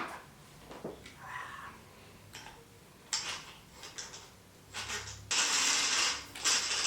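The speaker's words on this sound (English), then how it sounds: "So I'm going to go ahead and spool some of that on that reel first." Braided fishing line, 65 or 80 pound test, winding onto a reel for a tangle-free plug knocker, giving bursts of mechanical ticking and ratcheting clicks in short uneven runs, the loudest stretch near the end.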